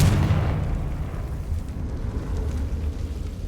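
Confringo blasting spell going off in a wizarding video game, a loud low boom at the start that fades into a sustained deep rumble, no voices.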